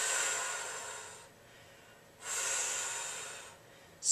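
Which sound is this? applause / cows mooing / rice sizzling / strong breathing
strong breathing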